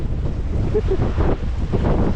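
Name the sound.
strong wind blowing into the microphone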